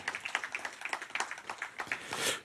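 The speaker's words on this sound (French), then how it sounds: "Là aussi, vous pouvez applaudir." Light audience applause at a game design talk, a scattering of claps, modest and somewhat distant, swelling briefly toward the end.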